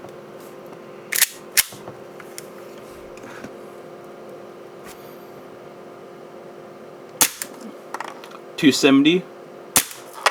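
A TM Hi-Capa airsoft pistol with AIP parts fires single shots through a chronograph: a few sharp, close snaps spaced irregularly apart, with a short spoken reading between them.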